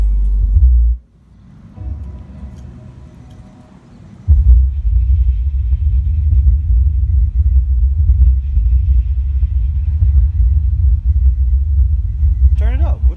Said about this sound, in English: I'm gonna show you a little bit of what the sound system sounds like.